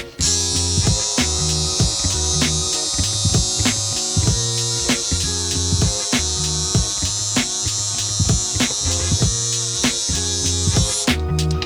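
Electric hair clippers buzz steadily and loudly for a self-cut taper on wavy hair, the hum continuous with small rhythmic shifts as the blade passes, no talking.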